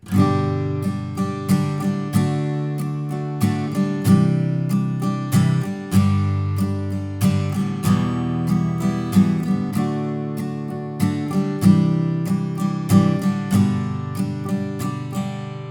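An acoustic guitar strums the chorus chord progression of the carol The First Noel, each chord struck in a steady rhythm and left ringing, played clearly and alone.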